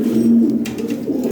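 A pair of white Lahori pigeons coos in a low, steady, continuous murmur, close by and fairly loud, with no talking over it.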